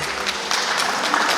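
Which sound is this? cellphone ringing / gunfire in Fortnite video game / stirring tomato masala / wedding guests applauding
wedding guests applauding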